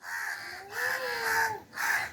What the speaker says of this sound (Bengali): ওই যে কাক আইছে, কাক আইছে।